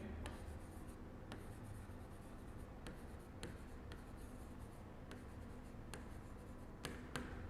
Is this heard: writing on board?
yes